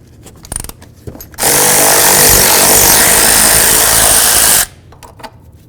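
Power tool spinning off an ABS wire mounting nut on a 1998-2002 Honda Accord, one loud continuous buzzing burst of about three seconds, with small clinks of handling before and after.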